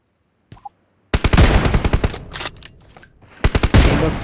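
An M4 rifle in a video game fires loud, rapid bursts of gunshots at close range, with a short pause between the bursts and faint clicks just before the shooting begins.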